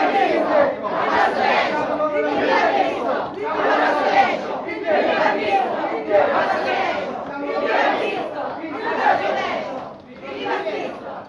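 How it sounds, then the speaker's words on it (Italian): A crowd of Christians in a sacred drama of the martyr Saint Reparata at Pesco Sannita, Italy, bursts onto the stage shouting acclaim to Christ: a dense, continuous mass of loud, overlapping voices rising and falling in waves throughout. "la folla dei cristiani irrompe sulla scena, inneggiando a Cristo"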